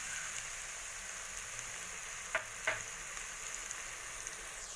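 Pureed tomato with spices frying in a pan, a faint steady sizzle with a couple of sharp clicks of a utensil partway through.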